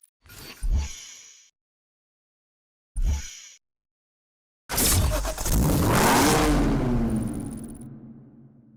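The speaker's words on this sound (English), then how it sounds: "Powered by Jaguar's 5-liter supercharged V8 engine, it is the finest expression of XK power and performance." A Jaguar XKR with a supercharged 5-liter V8 in Need for Speed: two short engine bursts separated by silence, then a long loud roaring rev that rises and slowly fades.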